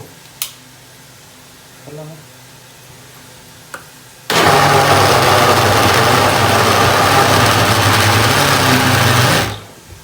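A blender grinds a paste of chilies, onions, ginger and garlic in a loud, steady whirring burst lasting about five seconds, preceded by a few small clicks and knocks, then stopping abruptly.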